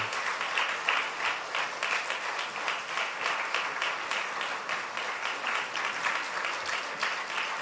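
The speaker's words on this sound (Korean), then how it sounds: "자리에 앉을 때까지 계속 박수해 주시기 바랍니다." Church congregation clapping at a new-member completion ceremony, a moderately quiet but continuous rhythmic applause with individual claps audible, sustained steadily for several seconds.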